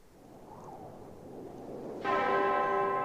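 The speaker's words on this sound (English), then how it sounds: "The bell in the clock tower echoed solemnly." A clock tower bell tolls the hour, one bright ringing strike that enters after a stretch of low ambient hum and then sustains with a long shimmering resonance.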